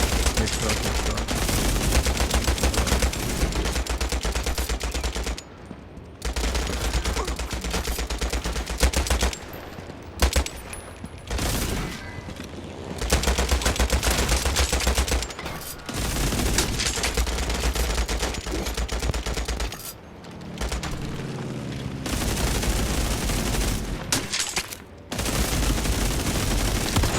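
Dense, loud gunfire from a World War II shooter video game, shotgun blasts mixed with rapid bursts, going on almost nonstop with brief pauses, with no clear talk over it.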